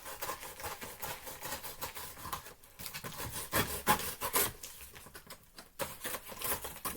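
Excess cardboard being cut off a book shipping box: a continuous close rasping and tearing of the blade through corrugated board, with small uneven crackles and rustles throughout.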